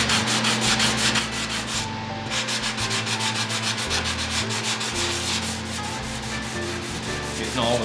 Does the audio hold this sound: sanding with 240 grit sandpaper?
yes